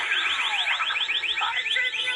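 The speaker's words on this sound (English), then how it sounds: "Gotta turn the alarm off." A cartoon alarm rings as a rapid, continuous electronic warble, loud and high-pitched, sounding alone for a couple of seconds.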